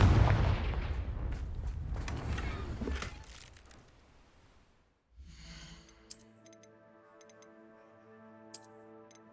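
Confringo fire spell blast in Hogwarts Legacy: a loud booming burst with crackling debris that fades over several seconds, then a brief silence before soft chiming magical tones and light clicks.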